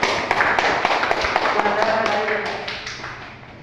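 Students in a classroom clap for a group after an Islamic studies lesson, a scattered, uneven patter of hand claps with some sharper taps near the front, gradually thinning out while voices murmur underneath.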